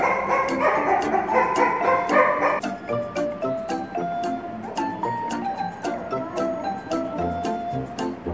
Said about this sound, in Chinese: 看看小奶狗都饿得到处找妈妈